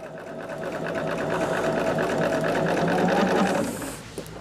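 A sewing machine stitches a scrap quilt made from grandma's fabric, running steadily and fairly close for about four seconds before slowing and stopping near the end.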